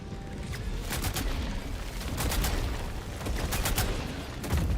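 Rapid bursts of gunfire from a weapon in the video game Helldivers 2, with repeated shots in clustered volleys over a steady rumble of battle, loud and close throughout.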